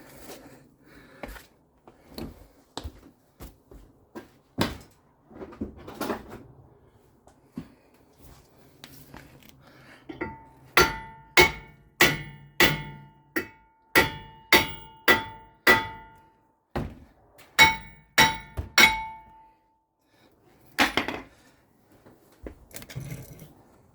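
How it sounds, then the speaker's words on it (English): A hammer strikes the face of a rusted front brake rotor on a 2013 Ford Edge to break the rust bond, producing loud, ringing metallic clangs in a rapid run of repeated blows, with scattered single hits before and after. "let me get a hammer and we can hit the face"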